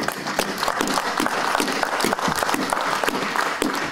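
Church congregation applauding and cheering during a worship service, steady dense clapping throughout with crowd noise, fairly loud and continuous.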